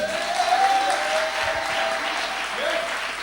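Steady, sustained applause from a crowd at a religious gathering, even in level throughout with faint voices underneath.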